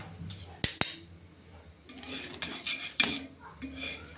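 A jowar bhakri is flipped on a pan, heard as sharp metallic clanks and clinks of a utensil against the pan, with scraping sounds between them.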